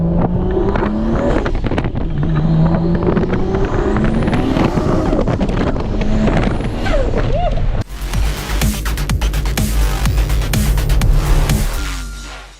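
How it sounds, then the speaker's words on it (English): A 1300hp Mustang or Supra makes a loud, close flyby as it leaves the track, its engine roaring steadily with heavy wind buffeting and a sudden harsher surge partway through. "everybody that leaves the track has to do that track flyby"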